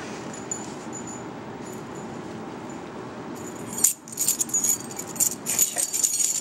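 Keys jangling close by, a bright metallic clinking and rattling that starts after a few seconds of quiet room noise and continues in irregular shakes.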